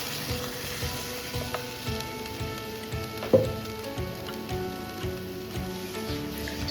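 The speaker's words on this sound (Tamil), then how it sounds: "இப்போ அதை ஊற்றி நம்ம வந்து கிளறணும்" Ground paste for vegetable kurma sizzles as it is stirred into a hot pan, a steady frying hiss with soft scraping strokes and one sharp clink.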